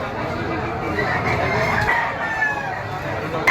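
Bull stag gamecocks crow at a Lipa City, Batangas poultry farm, one loud crow rising over a crowded backdrop of other birds and faint voices.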